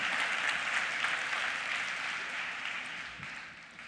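An audience at a HeartMath talk breaks into steady, full applause, a dense wash of clapping that holds evenly and then gradually thins and fades toward the end.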